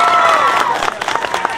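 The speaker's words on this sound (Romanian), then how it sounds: "să-i aplaudăm! Bravo! Dar tare, vreau aplauze multe!" An audience at an outdoor Christmas fair in Tătăruși, Romania applauds and cheers a brass band. Loud, close crowd clapping and shouting rises as a lingering tone fades, with lively mixed voices through the whole stretch.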